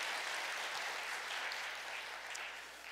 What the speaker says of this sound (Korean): 자, 다시 한번 박수로 우리가 감사하게 원합니다.